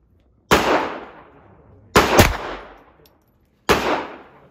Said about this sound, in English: Shoot the MP5 now.